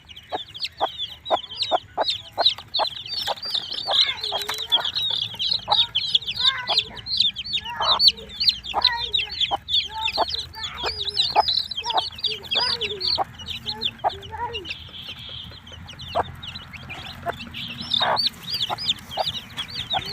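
Fayoumi chickens cluck and chirp busily during vaccination of week-old chicks, with rapid overlapping calls from several birds close by, continuing almost without pause.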